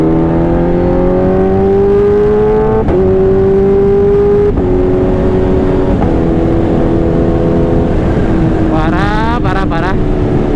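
Kawasaki H2 supercharged motorcycle engine revving and pulling hard, a loud close tone rising in pitch through repeated surges with brief gear-change breaks, a sharp whistling flutter near the end, while a voice talks intermittently.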